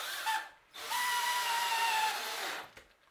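A power drill drives a 1 5/8 inch bugle head screw into the attachment board of a wooden bat house kit, whirring steadily for about two seconds after a short first burst.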